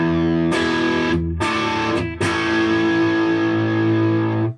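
Distorted electric guitar strums full chords across every string, with loud sustained ringing broken by a few quick re-strikes.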